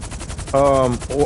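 A short machine-gun burst from non-player characters in GTA Online, a loud, close, rapid rattle of shots lasting about half a second and followed by a brief second burst.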